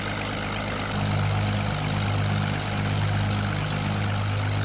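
A P-40B with its Allison engine running in Microsoft Flight Simulator 2020, a steady low droning roar that holds near and even throughout with no talk over it.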